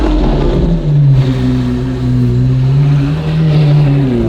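A Lamborghini Aventador SV Roadster engine revs loud and close on the open road, its deep rising and falling drone surging with the throttle and no talking over it.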